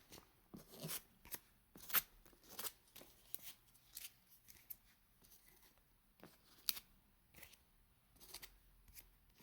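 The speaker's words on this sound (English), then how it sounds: "So give that a quick shuffle once I put everything back." A deck of Yu-Gi-Oh cards is given a quick shuffle, a series of soft, close riffling and flicking bursts at an irregular rhythm, quiet overall.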